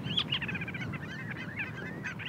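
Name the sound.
birds calling over the tundra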